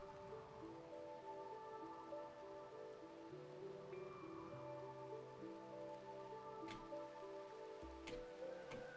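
Soft, steady patter of rain falling in the colony-building video game RimWorld, a quiet continuous wash beneath layered sustained music tones.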